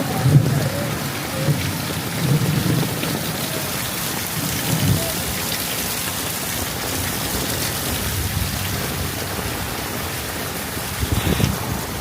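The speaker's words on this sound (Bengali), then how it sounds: "অনেক দিন পর বৃষ্টি" Heavy rain pours steadily outdoors in a neighbourhood, with low rumbles of thunder rolling in the distance and a louder burst near the end.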